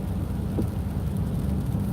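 Steady rain falling during a Florida downpour, a dense, even hiss with a low rumble underneath, continuous and fairly close with no voices.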